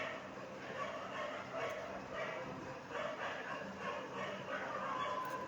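Several dogs bark and yip at a distance, a scattered, repeated chorus heard faintly through a low, steady background.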